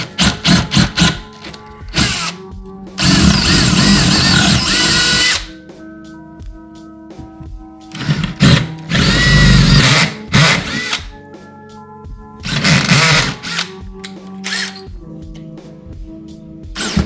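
A power drill drives a screw through a wood cleat into a wall stud for a floating shelf, loud whirring bursts of several seconds each, repeated four times with short pauses between, close with no talk.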